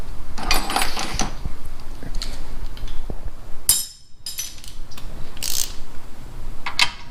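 A torque wrench works on a coilover bolt on a Mitsubishi Evo X, giving loud close metallic clicks and ratcheting clinks in irregular bursts, with a brief quieter gap midway.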